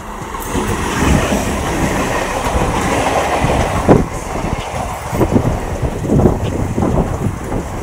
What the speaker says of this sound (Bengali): এই তো ট্রেন চলেছে, দেখাচ্ছি তোমাদের ট্রেনটাকে।